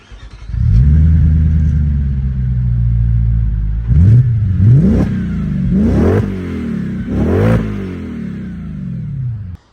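An Audi S4 B6 with a Milltek back box idles with a deep exhaust rumble, then revs sharply several times in quick bursts, loud and close, settling back between each blip.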